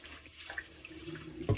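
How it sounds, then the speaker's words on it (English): Tap water running into a bowl of rice being rinsed for donburi, a steady close trickle and splash that ends with a sharper gush as the flow hits the grains. "you pour in the water and you pour it out"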